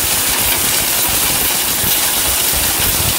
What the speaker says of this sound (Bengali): এটা কিন্তু স্টিল বুশের ব্লেন্ডার ভাই।